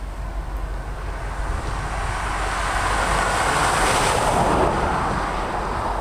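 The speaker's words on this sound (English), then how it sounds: "We got L&C Train 12 coming" Freight train 12 on the L&C Mainline at Chester, South Carolina, led by SD60M locomotives and heading eastbound, makes a steady, continuous rumble that swells slightly as it draws closer, with no one talking.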